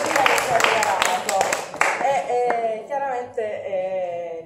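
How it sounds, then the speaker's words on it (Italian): Audience applauding Ilaria at a talk, brisk clapping that tapers off, with voices talking over it. "voglio fare un applauso all'Ilaria"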